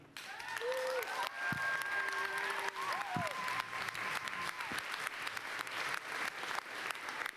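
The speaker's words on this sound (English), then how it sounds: "May we stand with an applause for our event manager, Pete Burke." A standing audience at a final ceremony applauds an event manager, a sustained, fairly distant clapping wash with occasional whistles or cheers rising above it.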